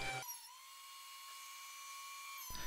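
A thickness planer runs a board carried on a sled, giving a steady, loud mechanical whine with a sharp onset and cutoff, heard alone without speech.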